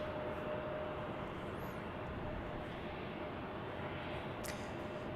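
An airliner at Salt Lake City Airport, a steady distant engine roar with a broad jet rumble that stays even for the whole span, faint and without talk.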